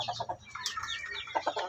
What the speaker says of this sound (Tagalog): Nagpapakain na naman tayo ng ating mga alagang manok.